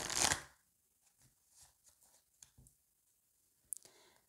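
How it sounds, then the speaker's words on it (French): Oracle cards are handled: one brisk riffle-like shuffle up front, then faint scattered taps and slides as cards are laid down, ending with a couple of sharper clicks. "on va les recouvrir avec l'oracle d'Annabella"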